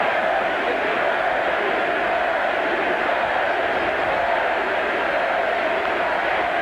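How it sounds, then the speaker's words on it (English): A large baseball crowd at Fenway Park roars steadily in a continuous, dense wall of voices that sounds like a sustained chant. "Listen to this Fenway crowd chanting, Freddie, Freddie."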